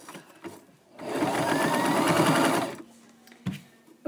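A sewing machine stitches a scarf in one steady, close run of about two seconds, a fast whirring hum with a faint rhythmic knock, framed by quiet handling sounds and no talking.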